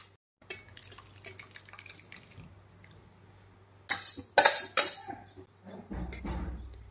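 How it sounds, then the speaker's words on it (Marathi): Cooked matki (moth beans) are poured from a pot into simmering gravy for misal, giving a few wet, splashing slops and a scrape of the vessel, close and moderately loud after quieter kitchen clatter. "आता हे ओतून घेते शिजवलेली मटकी."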